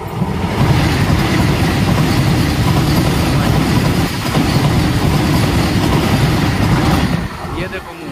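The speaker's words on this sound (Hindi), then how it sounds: "ये रेल आती हुई वंदे भारत एक्सप्रेस" The Vande Bharat Express train rushes past beside open fields, a loud, close, sustained roar of wheels and carriages that fades at the end as a voice speaks.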